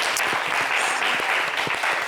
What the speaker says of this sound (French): On va applaudir pour la dame